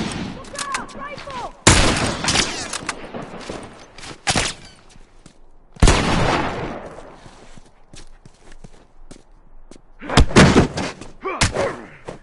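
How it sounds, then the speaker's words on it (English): Rifle gunfire in a video game rings out in several loud, sharp bursts with echoing tails, spread across quieter stretches of background game noise. "Look out! Rifle!"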